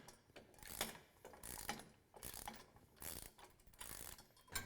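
A socket wrench ratchets while tightening bolts on a rear bumper being installed on a Jeep Wrangler, with repeated bursts of clicking strokes separated by short pauses, close and fairly quiet.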